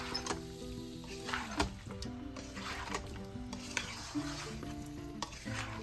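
Whole garam masala, tomato and ginger sautéing in a pan, a close crackling sizzle with frequent scraping and clinking of a spatula against the metal in an irregular stirring rhythm.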